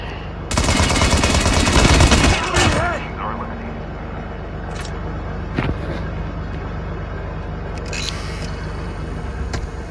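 Gunfire in the mobile game Call of Duty Mobile: a loud, rapid burst of automatic fire lasting a couple of seconds, then isolated shots and faint game sounds over a steady low rumble.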